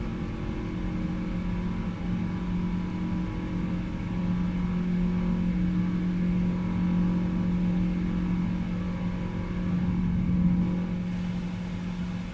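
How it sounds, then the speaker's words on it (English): Boeing 777 engines at climb thrust in the PMDG flight simulator produce a steady, loud droning hum with strong low tonal whine, swelling slightly and holding evenly throughout without speech. "I do like the sound of these engines at this climb thrust, though,"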